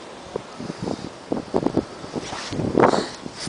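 Gusty wind buffets a microphone outdoors at a demolition site, with irregular low rumbling bursts and a stronger gust near the end, no talking.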